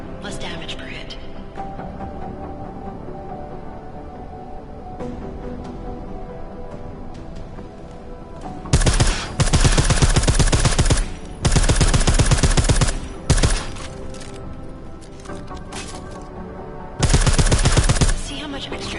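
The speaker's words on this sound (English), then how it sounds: "I like how silencers reduce sound, but the trade-off is less stopping power, less damage per hit." Bursts of suppressed automatic gunfire from silenced weapons in a PS4 shooter game, three loud sustained volleys with quieter ambient game sound between them.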